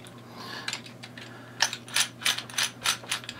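A lock pick gun working a door lock, firing a series of sharp metallic clicks and snaps that build into a faster, louder rhythm of about eight distinct strikes up close, with no talking.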